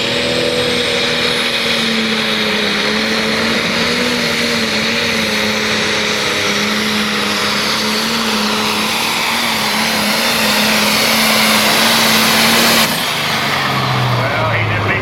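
A pulling tractor's engine revs up and holds a loud, steady roar at a tractor pull, with a sustained low drone and rising pitch through most of the run before it drops off near the end; a crowd and commentary murmur underneath.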